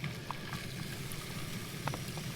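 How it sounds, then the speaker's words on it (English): Potato mixture with onion and garlic sizzling in olive oil in a hot pan, a steady close crackling fry with small pops throughout and no voices. "You can hear it sizzling already."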